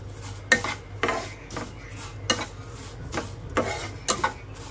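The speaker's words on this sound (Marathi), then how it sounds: "शेवई घेतले, ती छान तुपामध्ये आपण परतून घेणार आहोत।" Vermicelli being stirred and roasted in ghee in a pan, with repeated scraping and clinking of a spoon against the metal at an uneven rhythm over a faint background sizzle.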